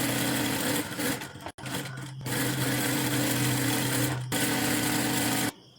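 A sewing machine runs in steady bursts while stitching the lining onto a princess cut blouse, its motor whirring loudly and evenly with brief pauses and stops, close by and without talk.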